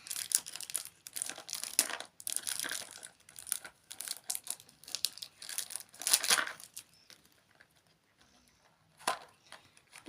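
Crinkly plastic toy surprise packets being torn open and rummaged, with bursts of rustling, crumpling and tearing separated by short pauses, close and fairly quiet.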